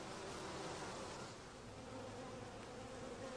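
A honeybee colony gives off a faint, continuous buzzing drone that stays even and unbroken throughout.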